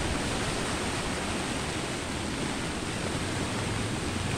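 Strong floodwater rushes steadily during heavy rain in Sunvalley, Parañaque, a loud, unbroken broadband roar close by with no pauses or other distinct sounds.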